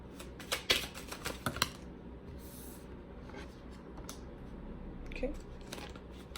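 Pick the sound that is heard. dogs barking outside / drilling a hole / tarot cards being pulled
tarot cards being pulled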